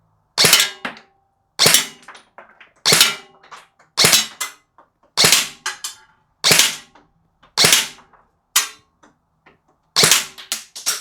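Specna Arms SA-F04 Gen 2 Flex AEG airsoft rifle firing at a target: sharp, loud single cracks spaced about a second apart, each followed by a short softer impact tap, with no speech in between.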